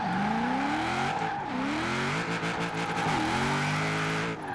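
A 1000HP Holden Commodore Group A drift build in Forza Horizon 4 roars loudly and continuously, its engine pitch climbing, then dropping sharply at several gear shifts before rising again.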